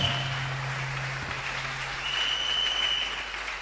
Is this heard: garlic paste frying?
no